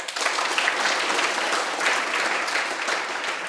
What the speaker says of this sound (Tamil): பாக்ஸ் கட்டிங் நல்ல ஒரு கைத்தட்டல் கொடுங்க.